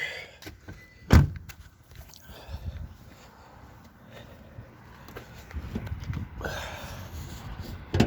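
The hood of a Toyota Tacoma pickup truck being released and lifted, with one sharp metallic clunk followed by lighter rattling and handling noises nearby.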